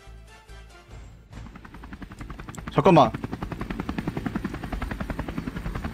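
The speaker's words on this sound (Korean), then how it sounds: "왜 헬기 떴어 지금." A helicopter in Project Zomboid thuds overhead with a steady rotor pulse, rising loud and holding as a rhythmic chop beneath a brief spoken voice.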